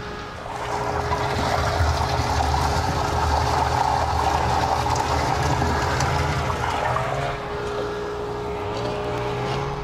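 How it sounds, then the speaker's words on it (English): Pump running to mix compost into water in an induction tank for compost tea, a steady churning rush of water over a low motor drone, continuous and fairly close. "So we're going to kick the pump on and start mixing some of the compost into the induction tank."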